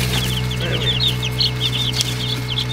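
Newly hatched baby chicks chirp in a rapid, steady stream of high peeps, loud and close over a constant low hum, with no talking.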